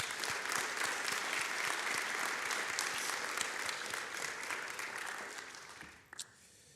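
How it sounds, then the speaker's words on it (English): An audience at a university athletics awards event gives a long round of applause, dense and even, which fades out near the end before a brief sharp sound. "So give them a big round of applause."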